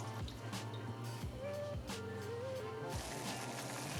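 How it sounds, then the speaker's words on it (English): Water pours into a cooking pot as four cups go in for shrimp and grits, a soft trickling fill with small splashes and knocks, faint and close. "we're going to add 4 cups of water to a pot"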